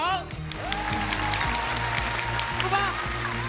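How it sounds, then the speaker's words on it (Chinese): Audience applause fills a 2020 CCTV Spring Festival Gala skit set at an airport, a continuous wash of clapping beneath a sustained tonal musical backing and stage voices. "最重要的是带头鼓掌"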